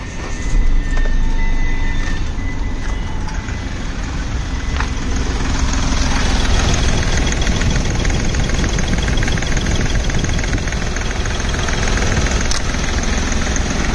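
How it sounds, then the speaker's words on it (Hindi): A Hyundai Xcent diesel sedan's 1120 cc three-cylinder CRDI engine idles in neutral, a loud, steady, close-up clattering rumble that holds unbroken throughout with no voices. "आपको एक बार साउंड भी सुनाएंगे इसके इंजन की कैसी साउंड है"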